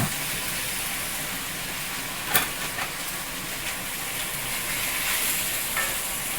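Andouille sausage, one pound, sizzles and fries steadily in a cast iron pot, a continuous close hiss with a single sharp clack partway through and no talking.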